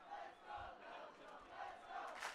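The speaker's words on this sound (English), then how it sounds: "Oh, the crowd chanting, let's go," A stadium crowd chants "let's go, Belgium" in a rhythmic, repeated cheer at the 2018 IQA quidditch World Cup final, USA vs Belgium, sounding distant and steady.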